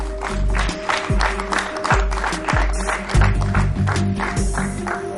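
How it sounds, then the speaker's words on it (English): A crowd at a debate competition claps steadily, with a dense patter of hands against a low droning background hum. "Big round of applause to Mohammed Naflan"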